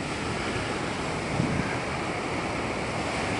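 Pacific Ocean waves wash onto the shore in Tahiti, a continuous, fairly faint roar of surf mixed with wind noise on the microphone, with no one speaking.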